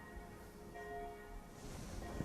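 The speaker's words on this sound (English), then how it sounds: "Well, I hear the bells." Bells ring faintly somewhere distant, thin sustained tones holding steady over a soft low background rumble.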